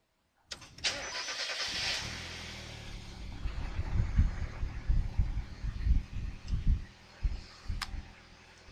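A Mazda Miata engine with a MegaSquirt PNP engine management unit cranks and catches with a whirring burst, then settles into a low, lumpy idle with a steady thumping rhythm, close by.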